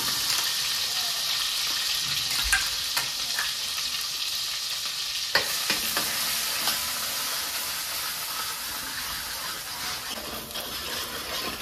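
Masala mixture for misal kat frying in several ladles of hot oil with cumin, a steady loud sizzle with a few sharp stirring clicks, no voices.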